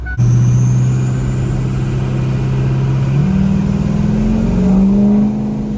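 An inherited older diesel truck with a fault code runs loud and close during a test drive, its engine holding a steady drone, then stepping up in pitch and building in revs with a high whine on top.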